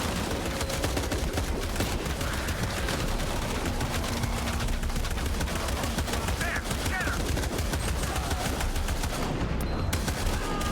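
Gunfire from shooting through enemies in the action game Shadow of the Tomb Raider: rapid, repeated gunshots and bursts of automatic fire, close and loud and continuing throughout, with a voice talking over parts of it.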